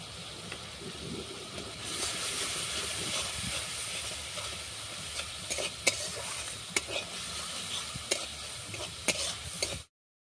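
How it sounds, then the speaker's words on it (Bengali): Fried prawns stirred into a sizzling spice mixture in a pan, a steady hissing fry that rises after two seconds, punctuated by sharp spatula knocks and scrapes against the pan at irregular intervals. "দিয়ে দিচ্ছি ভেজে রাখা চিংড়ি মাছগুলো।"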